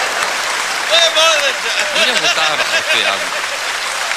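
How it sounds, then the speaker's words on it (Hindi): Live audience applause from a Hindi humorous poetry recitation fills the whole stretch, steady and dense clapping with some chuckles, while a voice speaks over it. "इधर से तालियां कम बज रही हैं"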